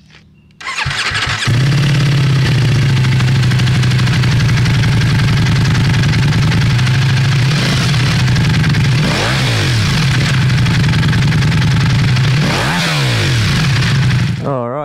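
A Ducati Multistrada V4S with an aftermarket exhaust starts up loud and close, then idles with a deep steady rumble broken by a few sharp revs.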